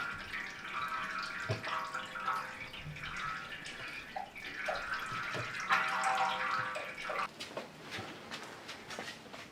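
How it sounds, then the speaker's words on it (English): Automatic transmission fluid draining from the tilted pan of a 1976 Mercedes-Benz 450SE W116 during a transmission service, a steady close liquid trickle and patter throughout with no talking. "you can see it's starting to drain more now that the pan's tilted forward"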